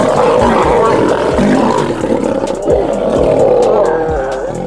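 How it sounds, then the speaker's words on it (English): Lionesses roar and snarl while fighting off a male lion, with loud, close, continuous growling and repeated deep grunting bursts throughout. "The lionesses launch well-coordinated attacks while chasing the lion further away from the litter."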